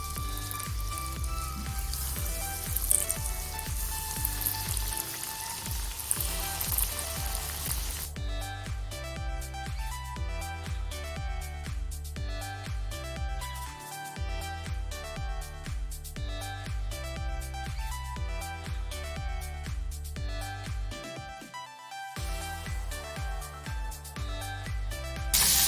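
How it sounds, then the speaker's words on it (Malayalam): Prawns deep frying in hot oil give a steady crackling sizzle that runs throughout, partly buried under louder background music. "ഇനി നമുക്കിത് ഡീപ് ഫ്രൈ ചെയ്തെടുക്കാം"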